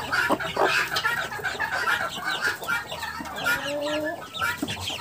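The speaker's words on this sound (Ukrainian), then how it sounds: "Ось дивіться, які вже курчатка." A broody hen clucks insistently beside her young chicks in a farmyard coop, the calls close, loud and layered.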